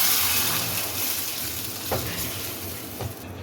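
Ground tomato thinned with a little water sizzles as it hits ginger-garlic paste frying in a pan for chicken masala kaleji, a loud, continuous hiss with a couple of brief stirring scrapes and no talking.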